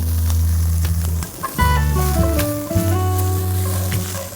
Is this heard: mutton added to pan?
yes